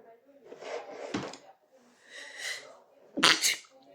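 A sharp, loud sneeze bursts out near the end, after a couple of softer breathy sounds and faint murmuring at an indoor craft table.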